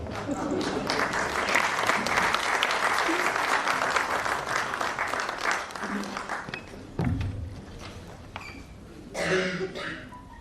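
Audience applause at a book launch event, sustained clapping from a seated crowd that fades out, followed by scattered coughs, throat clearing and a few thumps.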